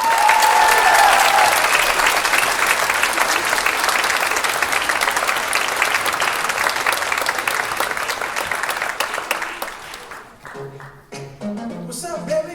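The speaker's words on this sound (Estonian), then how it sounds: "Ma palun väikest julgustavat ja toetavat aplausi." An audience applauds to encourage beginner hip-hop dancers, a loud, dense round of clapping lasting about ten seconds before it fades and other sounds take over.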